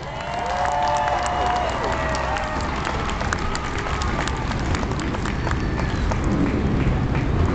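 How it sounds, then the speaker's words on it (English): A large crowd at a tough truck competition claps and cheers continuously in a dense, loud roar of applause that holds steady throughout. "can I hear a round of applause for our tough truck drivers?"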